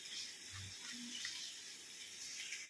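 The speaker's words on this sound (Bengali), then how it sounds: "একটু জল দিয়ে এটাকে ধুয়ে নিই" Dried marigold petals rinsed under running water from a tap, a soft continuous splash and trickle that stays quiet for nearly three seconds before cutting off.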